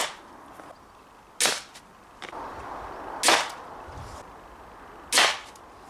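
A Redback crossbow fires regular bolts into a Kevlar vest: three loud, sharp thwacks about two seconds apart, each with a brief ringing tail, plus softer clicks of handling between shots.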